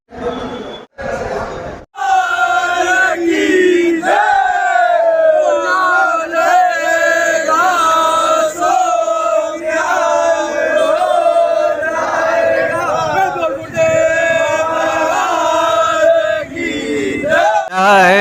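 A loud crowd of young supporters cheers and chants continuously at the gate during election vote counting, with excited shouting voices layered densely after a couple of brief opening bursts.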